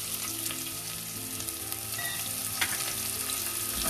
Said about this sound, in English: Fry them a little bit.